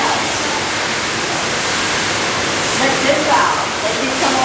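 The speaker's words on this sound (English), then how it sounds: "Now wash our hands." Water runs steadily from a tap as hands are washed at a stingray touch exhibit, a continuous broadband rush that stays loud and even throughout, with a faint voice mixed in.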